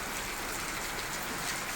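Heavy rain pours steadily over a town in Kollapur, a dense, continuous hiss of water on surfaces with no break or voices.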